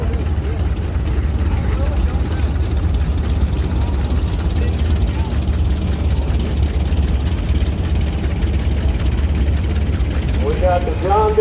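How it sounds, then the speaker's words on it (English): A 1949 John Deere Model A tractor engine idles with a loud, steady low rumble throughout while someone talks over it during a tractor parade. "Timmy Reed on the John Deere Model A, it's a 1949."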